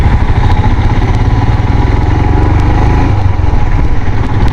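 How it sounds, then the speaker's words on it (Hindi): Loud, steady engine chug of a 2020 Royal Enfield Himalayan BS6 motorcycle rolling slowly in city traffic at about 10 km/h without throttle, close up and continuous, mixed with road and wind rumble. "बाइक आराम से चल रही है विदाउट एक्सीलेटर।"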